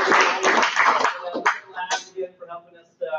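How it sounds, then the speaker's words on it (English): An audience at a small meetup gives a round of applause, loud and dense at first and thinning to scattered claps before trailing off. "Let's have a round of applause for Matt."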